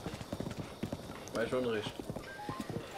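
A horse clip-clops at a steady trot in the video game Zelda: Breath of the Wild, with a brief neigh partway through, while a person talks over the hoofbeats.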